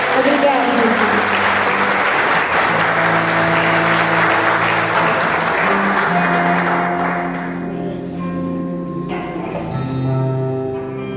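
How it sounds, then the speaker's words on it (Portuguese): A church congregation applauds loudly in dense, sustained clapping, with voices and music underneath; the applause fades toward the end as sustained instrumental tones take over. "Dá uma salva de palmas para Jesus"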